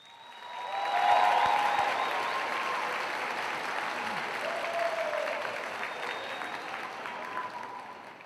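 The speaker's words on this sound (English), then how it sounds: "Let's give the students another round of applause." Audience applause fills a hall at a nursing pinning ceremony, rising quickly to a loud, sustained crowd clapping that holds steady for several seconds before slowly thinning.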